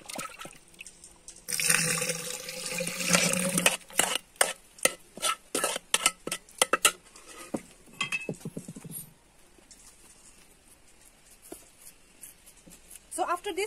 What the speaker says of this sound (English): After this, we have to stir it.